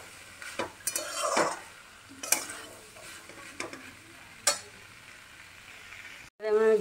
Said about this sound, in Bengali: ডালটা দিয়ে একটু ভালো করে কষিয়ে নিতে হবে